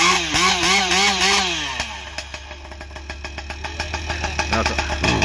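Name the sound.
Husqvarna 592 XP chainsaw engine idling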